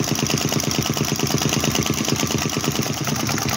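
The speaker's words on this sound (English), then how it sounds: "that's with a bit of reduced flame on the old heat engine there, the hot air engine" A model Stirling hot air engine runs on a reduced flame, giving a fast, even mechanical chuffing that repeats steadily at close range.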